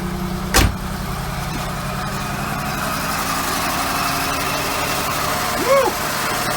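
An Oldsmobile Ciera engine idles roughly with an uneven, rumbling chug, interrupted by a sharp knock early on and a short voice-like sound near the end.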